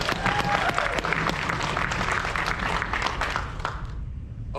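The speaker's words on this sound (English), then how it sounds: "a round of applause" Audience applause at a Bronies React panel at the Everfree Northwest 2024 convention, a loud burst of crowd clapping that holds steady and then quickly fades away at the end.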